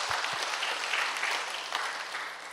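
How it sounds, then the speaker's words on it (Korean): A church congregation clapping for the choir, a dense burst of applause at moderate distance that holds steady across a short stretch. "성가대 박수 한번 더 쳐줘요"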